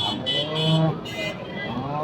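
A cow lows at a cattle market in Karimangalam, a drawn-out moo close by over a murmur of background noise.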